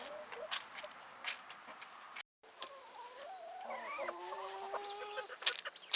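Several chickens cluck and murmur nearby while eating feed, with soft tapping and scratching sounds between the calls.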